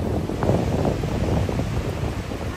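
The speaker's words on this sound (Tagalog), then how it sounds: "kusog kayong alon" Strong sea waves at a rocky shore wash in as a steady, loud, continuous roar with wind noise on the microphone, close by and with no voices.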